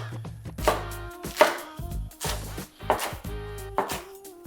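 Knife chopping spring onions into bigger chunks on a cutting board, a run of sharp, close, fairly loud chops in uneven bursts with short pauses between them and no talking.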